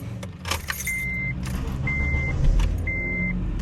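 A 2008 Acura TSX with over 200,000 miles, heard from inside the cabin while driving: a steady engine and road hum throughout, with three evenly spaced short electronic chime beeps over it.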